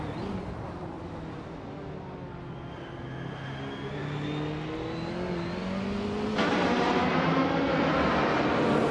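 Racing-game car engines, a Peugeot 406 among them, drone steadily with rising and falling revs that climb louder toward the end, with no talking.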